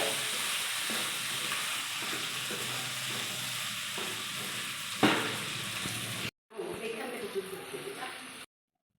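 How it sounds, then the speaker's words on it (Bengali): Chicken pieces fry and sizzle steadily in a pan while being stirred for chilli chicken, with a sharp scrape near the middle, then a short break before the sizzling resumes. "এটা একটু ভাজা ভাজা হবে।"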